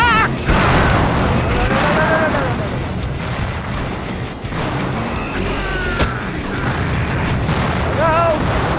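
Rockets exploding in the shooter game Slayers X: Terminal Aftermath, dense loud booms and blasts layered over continuous game noise, with a voice talking over the action.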